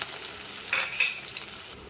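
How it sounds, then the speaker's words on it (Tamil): Mustard seeds, urad dal, chana dal, onion and curry leaves crackle in hot oil for a tempering, a quiet hiss with two brief louder sputters close by; nobody talks. "இப்போ தாளிக்கிறதுக்கு கடுகு உளுந்தம் பருப்பு கடலை போட்டுக்கலாம்"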